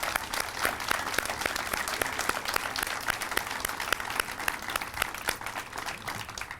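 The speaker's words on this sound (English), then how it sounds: "So please join me at this time in a round of applause for our firemen and our policemen." A crowd at a fire station grand opening claps for firemen and policemen, individual sharp hand claps standing out clearly within a steady, lively round of applause.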